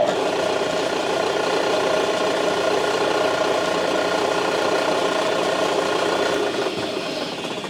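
Steady mechanical whirring and ratcheting from machining work while a Grovtec swivel stud flush cup is tightened in place, loud and continuous throughout with no talking.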